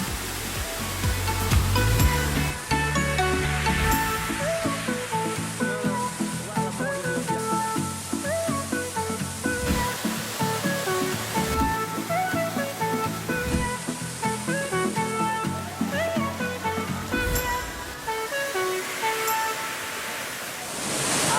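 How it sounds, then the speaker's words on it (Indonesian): A steady rush of falling water fills the background beneath prominent music, constant and unbroken throughout. "gemercik suara air yang tak berhenti ini"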